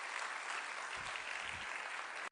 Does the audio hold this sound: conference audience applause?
yes